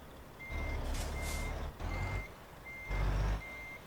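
A truck in Euro Truck Simulator 2 backs up with a steady series of evenly spaced reversing beeps over a low rumbling engine and an intermittent hiss, with no talking.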